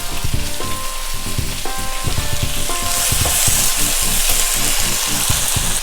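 Sliced tomatoes and ginger garlic paste sizzle loudly in a pan for Malabar-style chicken mulakittathu, with a steady close crackle and rhythmic stirring scrapes.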